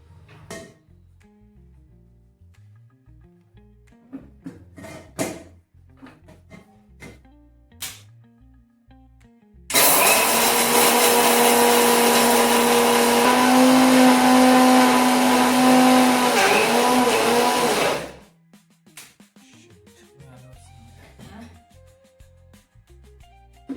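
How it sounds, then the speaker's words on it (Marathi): A kitchen mixer grinder blitzes green chillies with salt in one loud, continuous burst of about eight seconds, with quieter clicks and handling noises before and after. "काढायचं आता हे सगळं मिक्सरमध्ये"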